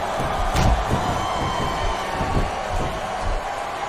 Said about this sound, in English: Now the fans start to cheer for him.